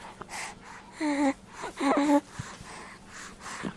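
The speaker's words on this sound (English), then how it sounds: "it's a baby. It's a long doorbell." Novelty doorbell plays a recorded baby sound, two short high whimpering cries in a row heard faintly in a quiet room with a little background murmur.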